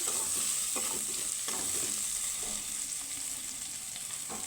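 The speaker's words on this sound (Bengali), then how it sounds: "এখানে আমার রসুনটাও আমি ভেজে নিচ্ছি" A steady, bright sizzle of garlic frying in a pan, with occasional soft stirring scrapes and no talking.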